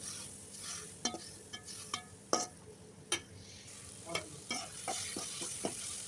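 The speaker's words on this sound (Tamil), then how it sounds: "தக்காளி வந்து நல்லா சுருண்டு வர அளவுக்கு நல்லா வதக்கி விட்டுக்கலாம்" Chopped tomatoes sauté in a hot pan for a okra tamarind curry, a steady soft sizzle broken by repeated close scraping stirs of a spoon against the pan, with no talking.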